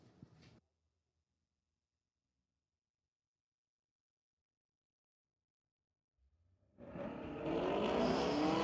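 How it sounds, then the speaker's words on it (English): A Ford Mustang and a Chevy Camaro launch in a street-legal drag race at Mission Raceway Park: after a brief blip and several seconds of near silence, a loud roar of engines bursts in and holds to the end. "Huge hole shot for the Chevrolet, and the Ford going to be left wanting."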